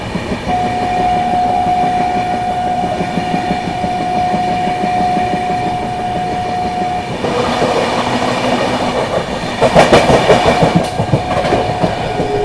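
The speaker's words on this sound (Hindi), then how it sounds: "अपनी प्रयागराज हमसफर एक्सप्रेस स्किप करने जा रही है टूंडला जंक्शन" Prayagraj Humsafar Express rolling toward Tundla Junction, a loud continuous rumble with clickety-clack of wheels on rails, a long steady tone over the first half and heavier rattling near the end.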